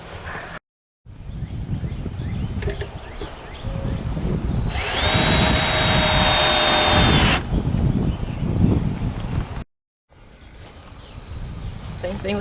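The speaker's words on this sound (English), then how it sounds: "when I put my screws in, it'll suck that bottom part in too" A power drill drives screws into a wooden cubby shelf, whining loudly in long bursts with short pauses between runs, close up, with a sustained high-speed stretch in the middle.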